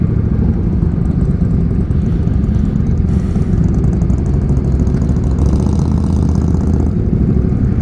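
A motorcycle engine idles steadily with a deep, throaty rumble from loud exhaust pipes, close by and continuous throughout.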